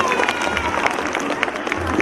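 Parents in a school audience at an annual day event clap for their children: steady, crackling applause from many hands, close and continuous with no single claps standing out.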